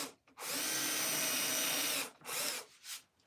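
A power drill bores through wood in a custom woodworking shop, a close, loud, steady whine for over a second, followed by two shorter bursts as the bit is worked.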